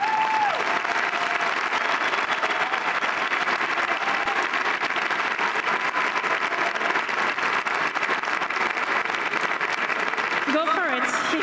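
A large stadium crowd at Roland-Garros applauds the champion after the women's final, sustained dense clapping that holds steady throughout, with a voice briefly audible over it.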